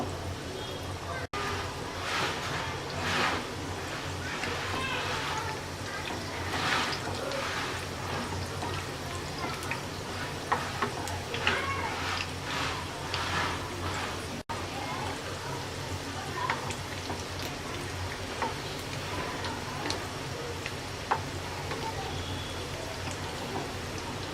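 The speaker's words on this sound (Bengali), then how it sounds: "মিডিয়াম আছে আমরা রোলগুলো ভেজে নেব।" Chicken macaroni rolls fry in oil over medium heat, a steady soft sizzle and crackle that persists close by throughout, with a voice talking over it.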